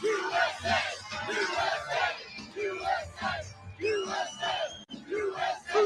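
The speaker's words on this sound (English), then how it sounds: "the crowd chants USA" A large crowd at a Trump rally in New Jersey chants USA in loud, rhythmic repeated bursts, filling the space with cheering voices throughout.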